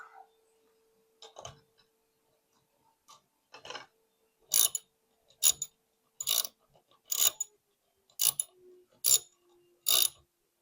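A bolt is worked loose from the head of a Dewalt DCST925 string trimmer, producing a series of sharp ratcheting clicks in short bursts, quiet at first and then louder and more regular, nearby in a quiet room.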